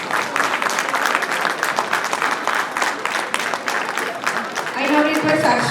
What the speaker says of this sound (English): Everybody, please welcome Somnath Ghoshji with a big hand of applause